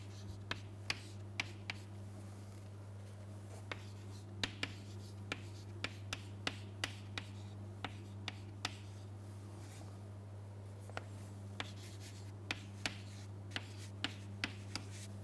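Handwriting a value: small, scattered pen or marker taps and short strokes, faint and close, over a constant low electrical hum.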